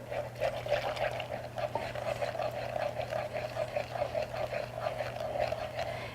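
Milk poured into corn bread batter in a home kitchen, a soft continuous liquid trickle and gurgle close by, steady for several seconds with a low background hum.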